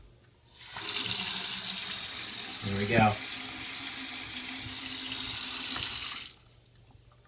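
Water runs steadily from a Moen 4570 kitchen faucet into a sink, a close continuous rushing stream that starts abruptly and cuts off cleanly, with a brief spoken remark partway through.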